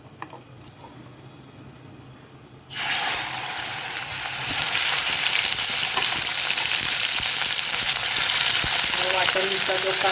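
Onion masala paste hits hot oil for a mutton rassa, bursting into a loud, steady sizzle after a quieter stretch, then frying on continuously with a dense crackle, close to the pan.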